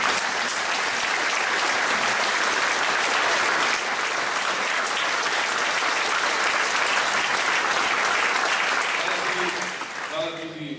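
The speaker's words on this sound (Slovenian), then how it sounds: "res en dober aplavz" A crowd at a political election convention in Ljubljana applauds loudly and continuously, a dense wash of clapping that holds steady before tapering off at the very end as a voice begins.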